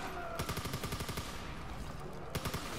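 Rapid automatic gunfire like a ray gun in a Call of Duty custom zombies map, Nacht Der Agonie: a steady train of loud, evenly spaced shots over a busy game background, with a short fresh burst near the end.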